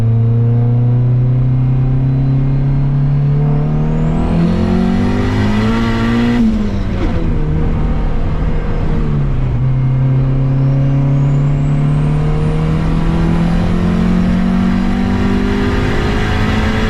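A turbocharged Honda Civic engine pulls hard and revs up through the gears, with a rising whine and a brief dip between shifts, loud and close throughout.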